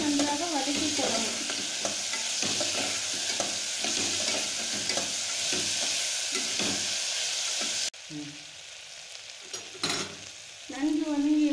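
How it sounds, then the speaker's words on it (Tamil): Tomatoes and onions sauté in a pan for green gram curry, with steady frying sizzle and repeated stirring scrapes throughout, loud and close, briefly quieter before the sizzle returns. "இதை அனைத்தையும் நன்றாக வதக்கிக் கொள்ளவும்."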